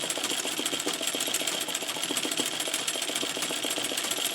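Treadle sewing machine stitching free-motion embroidery, a steady fast mechanical clatter of needle strokes with a rhythmic rattle running continuously and close, no voices.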